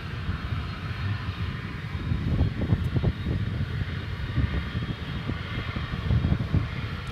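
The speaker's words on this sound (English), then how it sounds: "We've got another pushback going on." An airliner being pushed back at DFW Airport at night, a steady low engine rumble and whine heard from a distance, constant and broadband with no talk over it.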